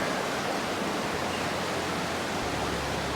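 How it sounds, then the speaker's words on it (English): Steady, broad rushing water noise without a break, like a river flowing close by, with no voices. "I don't know if you can hear it. I'm close to the old river."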